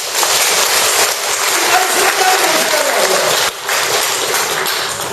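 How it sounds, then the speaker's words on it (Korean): An audience bursts into loud, sustained applause at a lecture, a dense wash of many hands clapping that stays strong throughout with a brief dip near the end. "박수 한번 칩시다."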